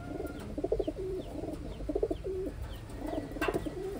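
Pigeons, Taiwan breeding birds, coo softly in repeated short low phrases of two or three notes, fairly close, with faint background noise and no talk.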